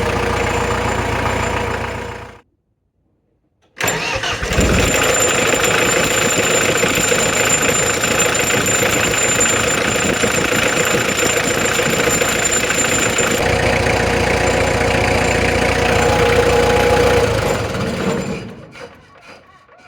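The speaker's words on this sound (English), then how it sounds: "It's nice to actually have some diesel noises on the channel for the first time ever" The diesel engine of an old, rusty Thwaites dumper truck idles loud and steady with a rough, knocking clatter. It cuts to silence briefly, then runs on continuously before fading out at the end.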